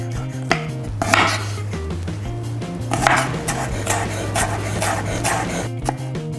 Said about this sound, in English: First thing we're going to do is to cut the garlic. So just smash it down.